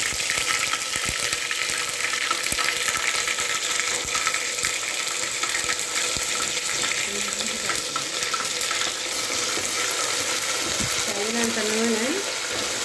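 Ginger garlic paste frying in a pan for a prawn curry, a steady close sizzle and crackle with scraping stirs and a brief clatter, while a voice speaks faintly toward the end.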